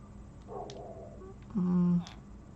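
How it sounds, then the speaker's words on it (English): A Minecraft chicken clucks once, a short steady tone of about half a second rising above a quiet game background, with no talk over it. "Chicken."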